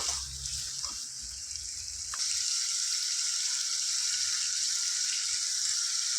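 Chicken frying in a pan for gongura chicken curry gives a steady, loud sizzle that swells and holds after a couple of seconds, with light clinks early on.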